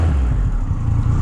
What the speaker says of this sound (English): the exhaust note on this one is even more pleasant